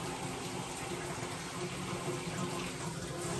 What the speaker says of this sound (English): The water is still warming up, so don't think, oh, you're wasting water, Christina.